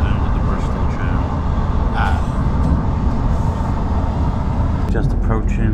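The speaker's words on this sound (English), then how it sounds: "Now we are under the Bristol Channel." Train running in the tunnel under the Bristol Channel toward Newport, a loud, continuous low rumble of wheels and carriage noise with faint voices now and then.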